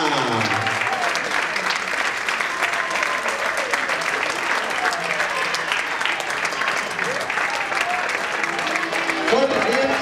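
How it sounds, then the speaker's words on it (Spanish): Audience at a dance gala applauding the young dancers, a dense, steady roar of clapping throughout with faint voices mixed in. "Aplausos, chicas. Fuerte el aplauso."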